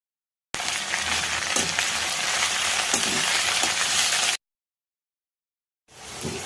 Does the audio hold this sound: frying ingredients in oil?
yes